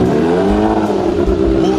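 Big motorcycle exhaust revving hard nearby, a loud, sustained engine roar with rising and falling pitch throughout, with voices talking over it.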